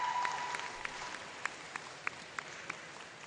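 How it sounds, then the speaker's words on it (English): Applause from the crowd at a Nature Coast wrestling senior night ceremony. A soft, distant wash of clapping holds steady underneath, with a few louder, regularly spaced claps standing out near the end. "let's give a round of applause for Gulf Coast Sports Network"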